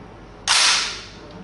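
A single sharp mechanical snap rings out close by, the brief bright crack of a Robinson XCR-M semi-automatic carbine's trigger released in dry fire, fading quickly into quiet.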